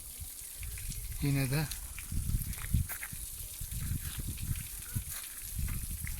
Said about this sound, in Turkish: Gördüğünüz üzere su 10 metre yukarıdan aşağı, 15 metreden aşağı dökülüyor.